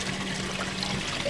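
Water trickling up from a leak near a wall drain in a house, a continuous close, gurgling wash of running water with a faint low hum beneath.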